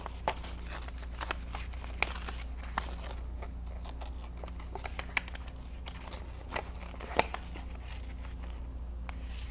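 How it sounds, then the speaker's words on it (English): Paper being torn by hand for an art journal butterfly collage, soft intermittent rips and crinkles, faint and close over a low steady hum, with no one speaking. "I like listening to the paper rip"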